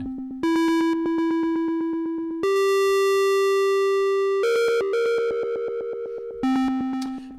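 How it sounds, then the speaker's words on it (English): A Sonic Pi synth with distortion set to 0.9 plays a run of buzzy, harmonically rich sustained tones that step between pitches, loud and gritty with abrupt note changes and no talking. "So let's say I want a little more distortion."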